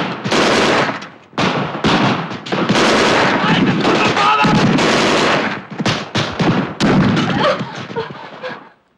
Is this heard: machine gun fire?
yes